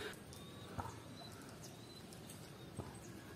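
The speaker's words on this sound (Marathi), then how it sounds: "पाखरं उडत आहेत गाईज, पाखरं." Birds flying and calling around the grounds of a Jain temple at Kosbad near Dahanu: faint, distant chirps and coos with a couple of soft wing-flap bursts over quiet outdoor air.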